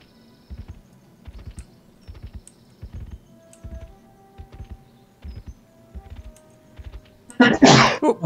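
A single loud sneeze bursts out at the end, following a long run of soft, rhythmic keyboard typing during an Everquest 2 gaming session.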